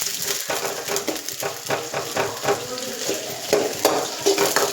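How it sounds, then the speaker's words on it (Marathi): Onion roasts in a clay pot for a traditional chicken dish cooked without oil. A steady crackling sizzle mixes with rhythmic scraping strokes of stirring, close and loud throughout, with no speech. "कांदा भाजून घ्यायचा आता आपल्याला मस्त मध्ये."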